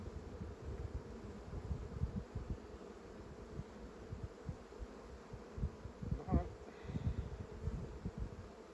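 Honey bees hum and buzz continuously around an open hive holding brood, a dense low drone with passing individual bees flying near, one louder close pass standing out.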